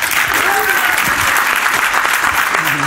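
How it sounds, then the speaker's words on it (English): A festival audience applauds a comedian at the Freethought Festival, a dense, steady wash of clapping that holds at full strength throughout with a few voices mixed in. "One last warm Freethought Festival round of applause for Tommy Nugent."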